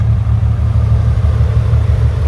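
A 1960 Canadian Corvair's air-cooled rear-mounted engine runs at a steady idle, a close, loud, even low rumble throughout with no talk.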